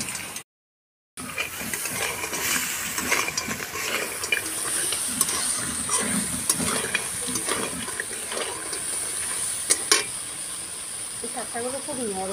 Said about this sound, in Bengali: অর্ধেকটা পেঁয়াজ ভেজে নিচ্ছি।